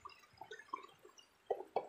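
Water drips near a river during small-scale gold panning, the first soft drops irregular and faint before two louder, sharper plops close together near the end.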